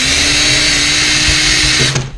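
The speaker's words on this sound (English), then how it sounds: "I'm going to take my drill, and this is an 1/8 inch drill bit on here" A power drill fitted with a 1/8 inch bit bores steadily through plastic while making a snow goose decoy, a loud continuous whine that holds for about two seconds and then winds down as the bit breaks through. No one speaks.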